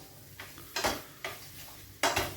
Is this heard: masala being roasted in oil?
yes